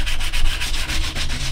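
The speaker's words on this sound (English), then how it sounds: "roughen it up a little bit using a nail file, so that when I glue things down onto this, it will adhere much better." A nail file rasps back and forth across a floor puzzle piece to roughen its surface, loud and close in an even rhythmic scraping with no talking.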